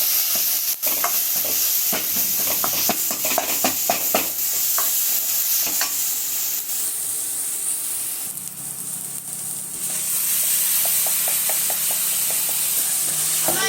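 Prawns sautéing with ginger garlic paste in a pan give a loud, steady sizzle and hiss, punctuated by bursts of quick spatula scrapes and taps, heard up close without any voices.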